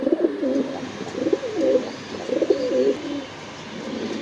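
A pair of red checker dragon pigeons coo close by in several rhythmic, throaty bouts, each lasting under a second, followed by a quieter stretch at the end.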